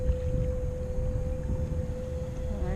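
A Bixpy jet motor drives a kayak at its lowest speed, holding a steady mid-pitched motor hum over rushing water and gusting wind noise, close and continuous throughout.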